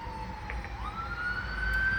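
An emergency siren wails in the distance, sliding up in pitch and then holding a long steady tone, faint beneath low road rumble.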